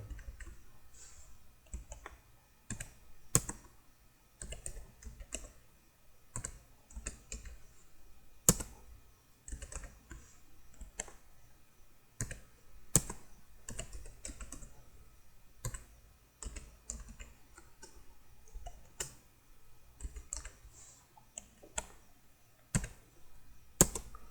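Java code being typed on a computer keyboard: quiet, irregular clicking keystrokes in steady bursts with occasional louder taps, no voice.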